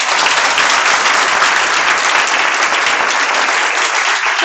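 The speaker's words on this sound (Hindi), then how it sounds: "मतलब एमसीआई के लिए इतनी अच्छी ताली बजी ना" Loud, dense applause from an audience at an MCI coaching event, continuous and even throughout without pause.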